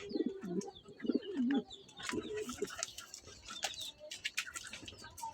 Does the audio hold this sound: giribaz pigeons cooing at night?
yes